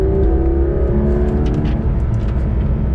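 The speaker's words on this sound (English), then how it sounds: "it is a really noisy car inside" Heard from inside the cabin of a 991-generation Porsche 911 GT3 RS, the engine gives a steady, loud droning roar that carries on without a break.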